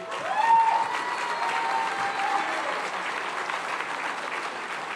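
An audience at a community meeting bursts into loud, sustained applause, a dense wash of clapping that holds steady for several seconds with no voices standing out.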